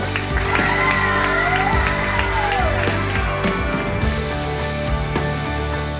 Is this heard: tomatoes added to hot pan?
no